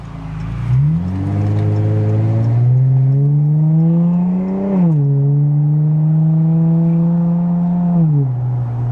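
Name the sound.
custom modded Chrysler 300 accelerating onto the freeway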